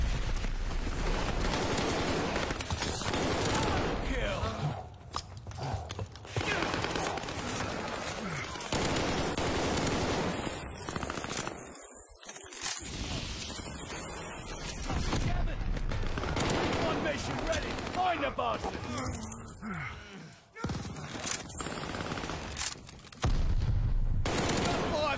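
Shooter video game gunfire in dense, sustained volleys of rapid shots, loud and near, filling nearly the whole stretch with only brief lulls, while a player's voice occasionally speaks over it.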